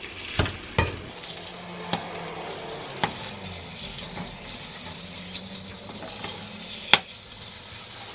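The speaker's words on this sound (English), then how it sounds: "I'm going to put the chicken in. And cook it like this on medium-high fire for exactly 2 minutes." Chicken breast sizzles steadily in a hot pan over medium-high heat, a continuous hiss broken by a few sharp clicks and pops, close and fairly loud with no talking.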